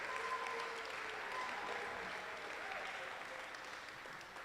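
Audience applause at a FIRST Tech Challenge robotics qualifying tournament on Long Island, a steady wash of clapping from a crowd that sounds somewhat distant and moderately quiet, lasting throughout with faint voices mixed in.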